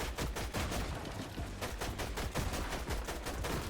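Rapid Fortnite gunfire, a dense stream of sharp, loud shots fired in fast bursts with barely any gap between them.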